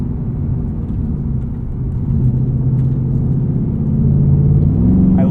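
A 2024 Ford Mustang GT coupe with a 10-speed automatic gives a steady, deep engine rumble while driving, heard from inside the cabin with no talk. The pitch rises slightly toward the end.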